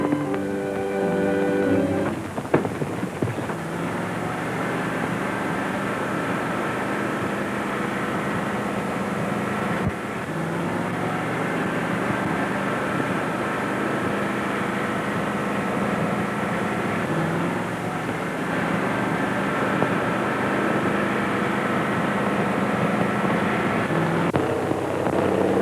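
A distant airplane engine drones steadily in an outdoor Western ranch setting near a mine in the 1939 film, a continuous faint hum that holds on with no talk over it.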